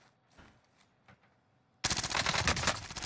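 Automatic gunfire in Call of Duty Warzone on Rebirth Island, loud rapid bursts erupting suddenly after a quiet stretch of faint clicks and footsteps, close and sustained to the end.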